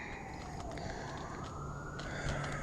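Faint, far-off emergency sirens from a fire response sweep slowly upward in a long continuous wail over a steady low background rumble.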